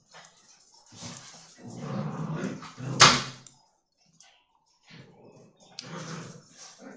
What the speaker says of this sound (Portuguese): Ó, cachorrada maluca.